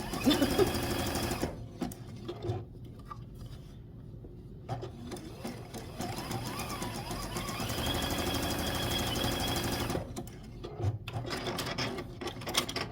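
A sewing machine stay-stitches a quilt block in bursts of whirring, with quiet gaps and handling noise between runs.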